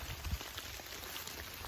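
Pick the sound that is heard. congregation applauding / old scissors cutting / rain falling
rain falling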